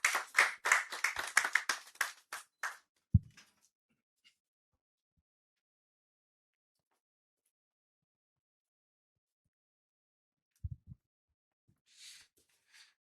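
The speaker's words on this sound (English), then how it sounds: "Please, a round of applause for him." A round of clapping at a construction and real estate outlook event welcoming the council president, a loud burst of quick claps that stops abruptly, followed by near silence with a couple of faint thumps and rustles.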